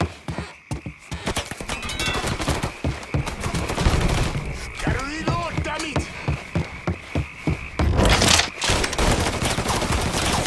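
Rapid bursts of gunfire and repeated shots crackle through a Mafia III Definitive Edition firefight, with shouting voices mixed in and a dense, loud, close exchange throughout.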